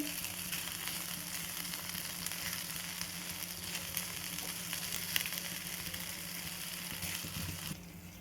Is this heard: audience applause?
no